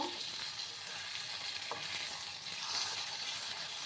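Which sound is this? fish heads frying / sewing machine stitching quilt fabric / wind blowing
fish heads frying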